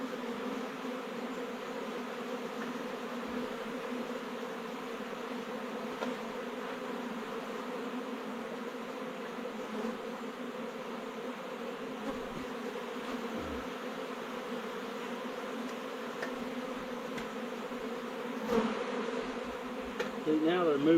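A colony of bees from a storm-felled tree hums in a steady, close, continuous buzz, with faint handling noises and a brief knock near the end.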